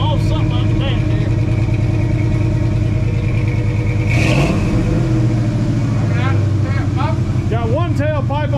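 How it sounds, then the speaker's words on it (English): A 1968 Ford F250 with a tuned engine and a single straight-back tailpipe revs hard and loud, with a sharp surge in the middle and a burbling, popping idle afterward, and voices heard over it. "old man, that sounds like a tuned up engine, don't it?"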